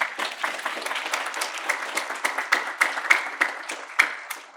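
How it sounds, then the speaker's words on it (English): Audience at a student final presentations event applauding for a presenter: continuous, moderately loud crowd clapping with distinct individual claps punctuating it. "One more round of applause for Bara."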